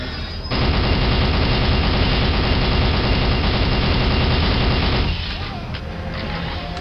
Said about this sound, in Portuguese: Sempre o tiro deles aqui sempre me danifica